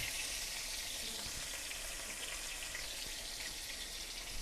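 Chopped onion and slit green chillies frying in oil with whole cumin, a steady faint sizzle and crackle running evenly throughout with no talk.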